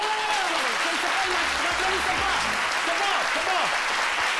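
A studio audience on a French midday television show claps steadily as a man enters the set, a thick, sustained wash of applause with voices talking over it throughout.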